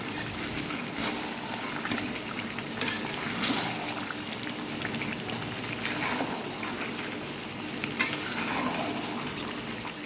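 Chicken sautéing in a pan with meat masala and tomato sauce gives a steady bubbling sizzle, close and moderately loud, with occasional stirring scrapes and no talk.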